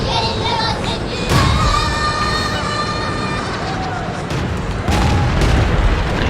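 An SU-100 tank destroyer fires its gun in a tank video game, a sharp booming shot landing amid game effects and a commentator's voice, with further distant blasts and engine rumble behind.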